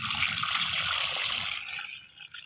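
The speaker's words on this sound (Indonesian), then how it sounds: "ini kita siram aja teman-teman di atas." Water pours in a steady, close gush over sand packed into a pot mould, softening and tapering toward the end.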